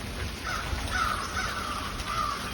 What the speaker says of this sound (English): We have more than just the crows out this morning.